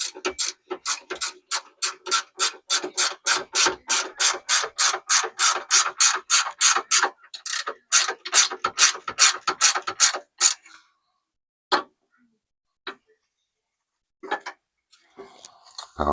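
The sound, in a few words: ratchet wrench turning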